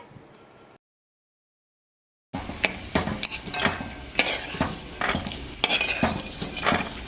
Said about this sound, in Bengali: সামান্য পরিমাণে কিশমিশ দিয়ে দিলাম, দিয়ে ভেজে নিচ্ছি